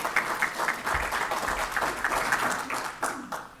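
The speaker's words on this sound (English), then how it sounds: "he really deserves a little round of applause himself" A lecture audience gives a modest round of applause in a hall, a dense patter of clapping that holds steady for a few seconds and then thins out toward the end.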